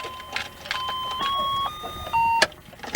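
A car's chime system plays a short run of clear electronic tones, stepping through several pitches over a few seconds amid faint background clatter.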